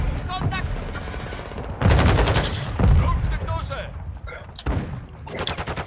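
Bursts of rapid automatic gunfire in Call of Duty: Modern Warfare II ring out in a multiplayer firefight, loud cracking volleys broken by short pauses while players talk over them.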